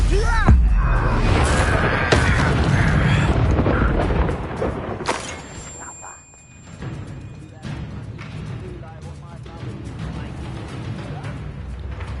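A Bombarda blast spell goes off in Hogwarts Legacy, a loud deep boom with rumbling low-end impact followed by crackling debris and lingering game ambience, with a shouted spell name at the start.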